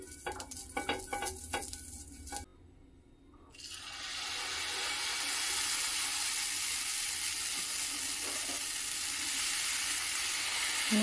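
Ragi amboli batter sizzles steadily on an oiled griddle, a loud continuous hiss that sets in after a few light kitchen clatters and a brief pause, then holds close and even to the end.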